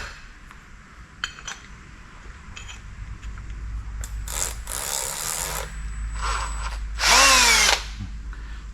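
A power drill whirs in several bursts, starting and stopping, grinding into material up close, with light clinks between runs and a louder final burst.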